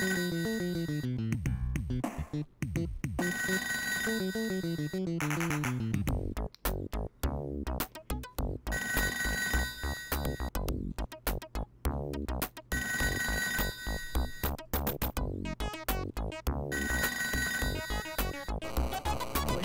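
Telephone ringing in the ToeJam & Earl video game, with bursts of electronic bell-like trills repeating in fast irregular cycles, mixed with chirpy game tones, loud and alone for about twenty seconds.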